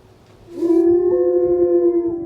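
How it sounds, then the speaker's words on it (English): A wolf at a mountain animal sanctuary gives a single loud, sustained howl, rising and holding a steady tone close by, with no voices. "the haunting howl of a wolf comes to life"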